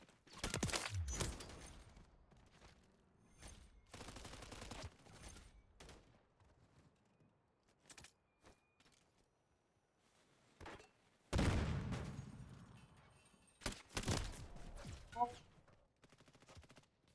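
Bursts of heavy gunfire from a first-person shooter match with the FR Avancer rifle: loud volleys near the start, at about 4 and 5 seconds and again around 11 to 15 seconds, with scattered single shots and quiet gaps between them.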